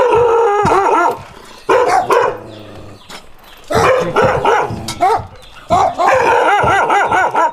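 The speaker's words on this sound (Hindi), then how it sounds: "ये रास्ते में कुछ डॉग्स इस वक्त हमें नजर आए हैं जो कि गधों को जो है वो तंग कर रहे थे" Several dogs bark and yip in repeated bursts on a village road in rural Lodhran, near and loud, with short pauses between volleys and no talk.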